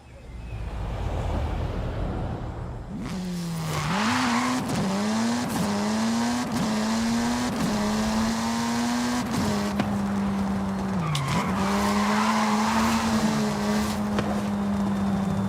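A Volkswagen driven in the video game Forza Horizon 5 revs its engine hard, its steady drone broken by repeated tire squeals as it shifts and corners, loud and close with no talking.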